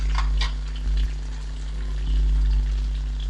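Roughly chopped onion frying in a pan for keema-stuffed capsicum gives a steady close sizzle, with a few soft stirring knocks and scrapes; no one speaks.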